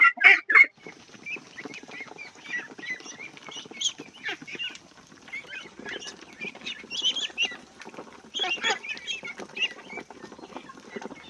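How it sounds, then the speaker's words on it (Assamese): Domestic ducks and small ducklings crowd around grain feed, giving a steady jumble of soft quacks, peeps and pecking noises close by, with no talk over them. "ডাঙৰ হাঁহখিনিয়ে ধুনীয়াকৈ দানা খাইছে কিন্তু সৰুকেইটা চাওক সৰুকেইটা সোমাবলৈ নাপায়"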